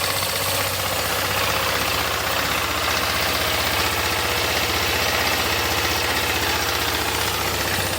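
A BMW F650 GS motorcycle engine idles steadily, with a low, even thrumming pulse and faint mechanical knocking that hold constant from start to finish. The engine is close and heard alone, with no talking.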